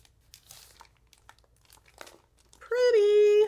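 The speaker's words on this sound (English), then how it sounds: "I'm going to cut this with scissors" Scissors snip and crinkle through a moisture-proof foil package holding Infusible Ink transfer sheets, a few scattered crunches and rustles close up, ending with a loud sustained tonal squeal.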